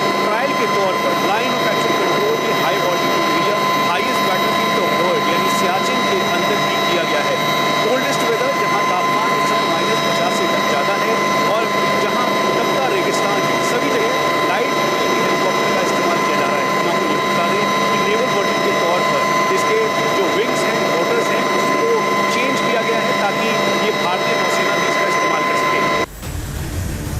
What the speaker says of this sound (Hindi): हम इस समय लाइट यूटिलिटी हेलीकॉप्टर में हैं।